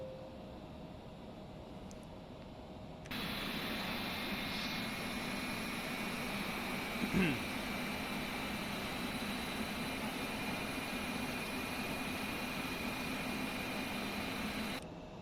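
An MD-80 airliner's jet engine spools up after the tow is disconnected, a steady broadband roar that jumps in loudness after a few seconds of quieter hum and holds with a high whine above it, with one brief thump in the middle.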